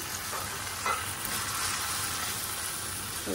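Chicken mince frying in a pan for spaghetti, a steady close sizzle with occasional stirring scrapes, no voices.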